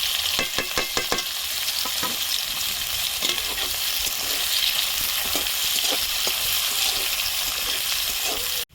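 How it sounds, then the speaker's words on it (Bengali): Chopped onion and green chilli frying in hot oil, a constant close sizzle broken by sharp clicking stirs from a utensil against the pan, ending abruptly. "এখন আমি পেঁয়াজ কুচি আর লঙ্কা কুচিটা ভেজে নেব।"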